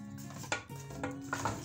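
A spoon stirs onions in a metal cooking pot for soup, with three distinct clinks and scrapes about half a second apart over quiet, close-up clatter.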